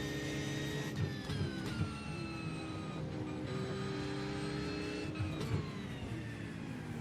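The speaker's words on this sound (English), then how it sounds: "That BMW CC was growling." A BMW race car engine growling in an iRacing IMSA race at Atlanta, a continuous droning engine tone with steady pitch lines and brief shifts in pitch, loud and alone throughout.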